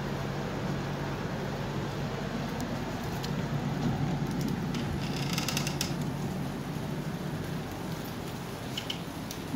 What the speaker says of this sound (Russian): пошел дождик